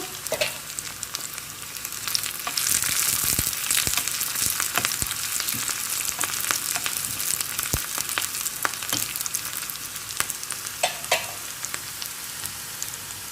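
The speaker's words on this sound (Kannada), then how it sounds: "ಒಂದು ಸಣ್ಣ ನೀರುಳ್ಳಿಯನ್ನು ಎರಡು ಚಮಚ ಎಣ್ಣೆ ಹಾಕಿ ಇಲ್ಲಿ ಹುರಿತಾ ಇದ್ದೇನೆ" A small onion and four garlic cloves fry in two spoons of oil for aloo rava dosa, a close, continuous sizzle broken by sharp scraping stirs and pops from the spoon against the pan.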